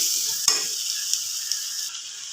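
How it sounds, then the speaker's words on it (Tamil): Fish curry masala with tuna frying in a pan, a bright steady sizzle with a sharp spoon knock and a couple of lighter scrapes as it is stirred, close and with no speech. "இதை இப்போ நம்ம நல்லா கிண்டிட்டோம்"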